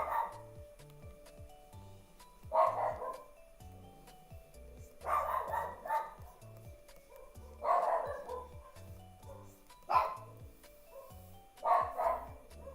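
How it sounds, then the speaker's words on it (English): Dogs bark in repeated bursts every couple of seconds, several yips and woofs clustered together, moderately close over a background of soft music. "Can you guys stop barking, please?"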